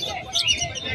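Finches at the Malabon pet market chirping in quick, high twittering bursts over a low background murmur of crowd noise, lasting only a moment.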